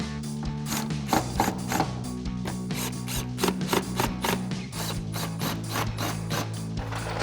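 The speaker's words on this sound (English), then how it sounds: "we'll grab our 8mm socket on our impact" An impact wrench fitted with an 8mm socket drives bolts on a RAM 2500 front leveling kit, giving a close, continuous rapid rattling hammer.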